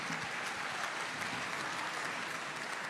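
A round of applause from the crowd at a music awards night for a nominated act, continuous dense clapping at an even level throughout.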